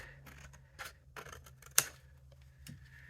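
Scissors cut through card for matted and layered cards, giving a few quiet, separate snips and clicks in a hushed room, with one sharper crisp snap partway through.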